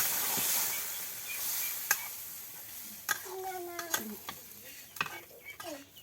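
Vegetables stirred and fried in an iron wok, with a soft hiss under scattered spatula scrapes and clinks that come in irregular bursts, fairly quiet and close.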